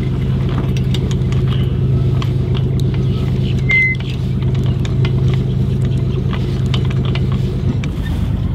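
A boat's engine idles steadily at anchor, a low continuous drone with a mid-range hum holding even throughout, loud and close, with faint clatter and knocks on deck above it.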